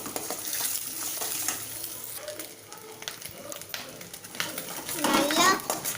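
An egg mixture sizzles and fries in a pan while it is stirred with a utensil, giving a soft scraping and crackle under a voice and other talk nearby.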